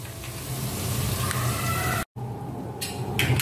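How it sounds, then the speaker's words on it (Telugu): Leaves frying in hot oil for a homemade hair oil give a steady, dense sizzle with a crackling hiss throughout, briefly cut off for a moment and then continuing, close and unbroken by speech. "ఆకులన్నీ బాగా ఫ్రై అయిపోయి కదా"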